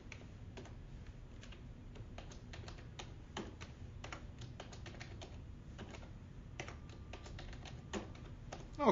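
Quiet, steady typing on a computer keyboard while names and headings are entered into a spreadsheet, with irregular clusters of key clicks running throughout and no voices.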